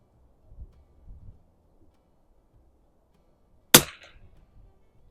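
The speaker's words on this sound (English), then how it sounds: "last shot on a splatter burst." A single sharp rifle shot from a Savage 19 NRA fired at an outdoor range, a loud close crack with a short fading tail, preceded by faint low handling bumps in otherwise quiet surroundings.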